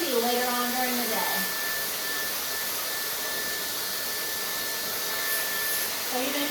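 A hair dryer blowing damp hair dry, a loud, steady broadband whoosh held throughout, with brief talking at the start and again near the end.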